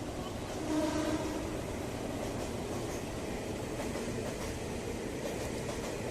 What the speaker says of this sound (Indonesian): Oke, ini ada kereta lewat.